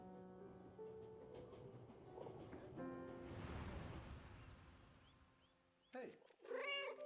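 A cat meows in the World War I video game 11-11 Memories Retold, several drawn-out meows near the end over soft game music and ambience.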